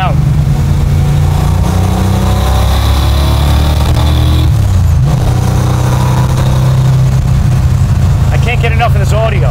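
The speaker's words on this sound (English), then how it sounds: "The Magnaflow exhaust gives it a robust sound and feeling" 1969 Dodge Charger General Lee replica with Magnaflow exhaust and 500 horsepower, accelerating with a loud, deep V8 roar that stays heavy and continuous, revs climbing and shifting, with a person talking over it.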